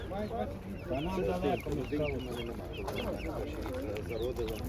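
Chickens clucking and squawking steadily nearby at a market, mixed with people talking over a constant outdoor background.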